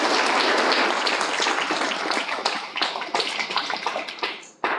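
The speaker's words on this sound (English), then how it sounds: "Now a round of applause for Michael Fernandez, please." An audience at a career and technical education signing day ceremony claps, the dense applause starting full and gradually thinning out toward the end.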